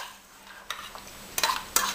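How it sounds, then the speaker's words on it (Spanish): Vinaigrette of onion, red pepper and Modena vinegar stirred with a utensil in a bowl, giving a few soft scraping clicks and light sloshing, faint and close, with no talking. "Ahora le damos vuelta y ya tenemos nuestra vinagreta lista."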